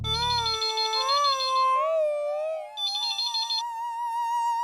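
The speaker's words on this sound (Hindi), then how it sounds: "तो बबीता उसका दुकान पर फोन लगाओ ना, शायद वहां पर होगा" A phone rings through when calling a shop, heard as a loud electronic melodic ringtone with sliding tones that carries on alone, close and clear, in a Hindi TV sitcom.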